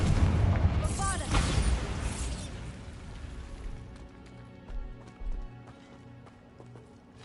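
A Confringo blasting spell explodes in Hogwarts Legacy with a loud, close booming burst, followed by rumbling, crackling debris and softer game effects fading out over several seconds.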